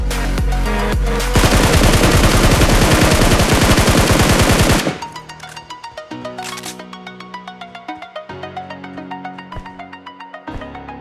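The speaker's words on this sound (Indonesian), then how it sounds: "tembakan ini akan mengirimnya keluar dari permainan dengan cepat" Rapid automatic gunfire from PUBG bursts loudly and densely for several seconds, then gives way to a musical backing with tonal stabs and steady rhythmic beats.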